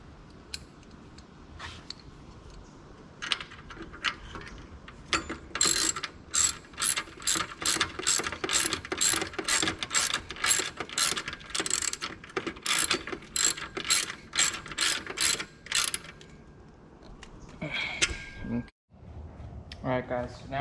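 A ratchet tightens a bolt on a radiator relocation bracket for a 2020 Honda Rancher: close, rapid clicking in long bursts with short pauses, mixed with metallic handling noises and a few scrapes near the end.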